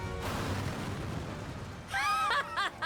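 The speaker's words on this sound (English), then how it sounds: "Explosion." A muffled, rumbling explosion in the Final Fantasy XIV video game, followed by a burst of laughter-like vocal sounds near the end.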